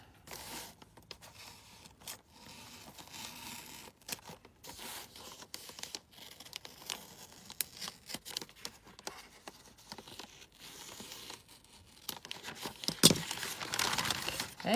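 Gift wrapping paper printed with little angels being unwrapped by hand, with soft crinkling and scattered tearing that builds into a louder rip near the end, and no talking.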